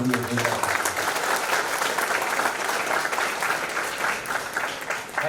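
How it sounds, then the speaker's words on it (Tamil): An audience at a batchmates' meet applauds a speaker, a steady wash of many hands clapping that holds level throughout, with a voice briefly audible at the start. "வளர்த்த கைத்தட்டல் மரியாதை"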